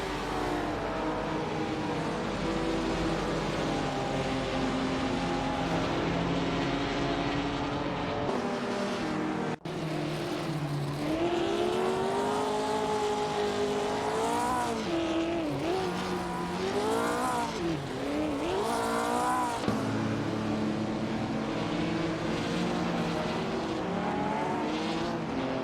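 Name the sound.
1950s sports cars racing, AI drivers in a video game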